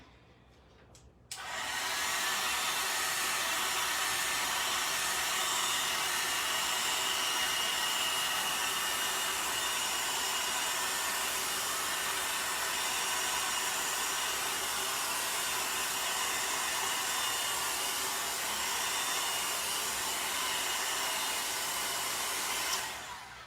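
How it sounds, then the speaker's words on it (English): A blow dryer switches on after a second of quiet and runs steadily with a loud, continuous airy roar until the end. "use the blow dryer."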